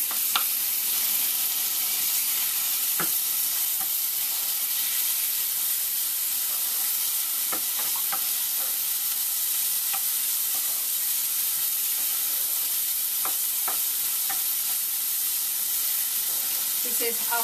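Golden-brown onions with two tablespoons of ginger and garlic paste fry for cashew chicken, a steady, loud, hissing sizzle that runs on and on, dotted with occasional sharp pops and clicks.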